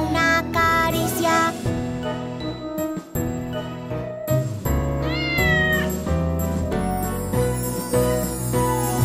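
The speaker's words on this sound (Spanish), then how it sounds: "Yo soy un gato pelirrojo y mis ojitos son marrones." A red cat meows repeatedly within a loud children's song with music and jingling bells, the meows blending into the busy arrangement throughout.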